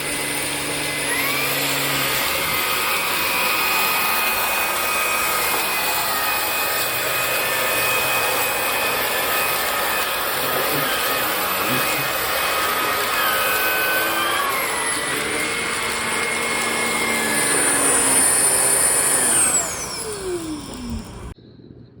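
A Hoover ONEPWR Blade MAX cordless stick vacuum runs in turbo mode, a loud steady high-pitched motor whine that holds for about twenty seconds, then winds down sharply at the end.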